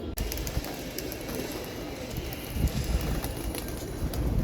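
Pigeons cooing in a pigeon loft, a steady low murmur of coos with rustling and background noise throughout.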